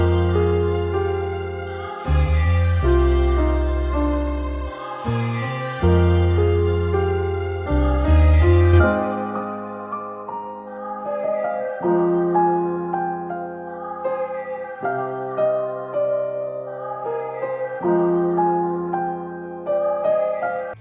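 Melodic sample for a trap beat, with layered tonal instruments playing a moody repeating phrase, deep sustained bass in the opening bars, then lighter plucked melodic lines. It plays steadily with no voices.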